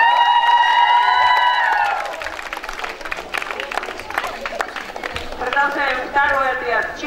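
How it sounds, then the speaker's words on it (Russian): A crowd applauds at a children's summer camp closing assembly, a burst of scattered clapping at moderate distance between stretches of someone speaking over a microphone. "Аплодисменты,"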